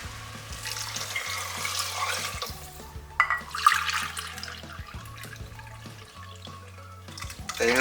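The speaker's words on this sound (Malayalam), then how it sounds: "വെള്ളം ചേർക്കാം." Water pours from a tap or vessel into a cooking pot of vegetable rice with coconut milk, a steady splashing rush with brief clinks, close by and fairly loud, no talk.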